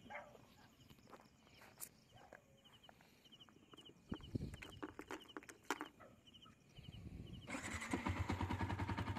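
A motorcycle parked near a church in the early morning cranks and fires up, the engine settling into a loud, steady idle after scattered clucking chickens and other yard sounds.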